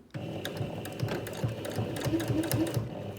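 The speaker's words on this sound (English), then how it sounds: "I'm just sewing down the edge of the Velcro tape itself" An electric sewing machine runs steadily, stitching Velcro tape down onto fabric for a tablet cover, with a fast regular needle rhythm and a motor whir heard close up.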